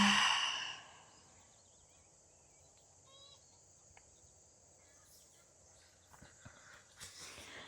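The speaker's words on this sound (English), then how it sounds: "Taking a big inhale and a big exhale." A loud, breathy yoga inhale and exhale opens the clip as a single close sigh, then fades into a quiet room with faint insect or cricket chirps and a few soft rustles.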